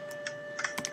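Computer keyboard typing in a quiet room, a few faint, sparse key clicks spread across a second, set against a steady low hum.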